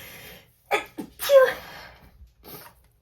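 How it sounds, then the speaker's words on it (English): A single sharp sneeze bursts out between quieter breaths and small vocal sounds, close and loud. "I'm gonna sneeze again."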